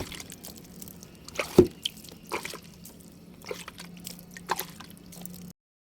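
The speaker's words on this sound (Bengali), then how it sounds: "অল্প একটু জল দিয়ে দেব।" A little water is poured onto soil in a pot on a rooftop garden, making faint, sparse drips and soft splashes with one sharper splash early on, in a quiet setting.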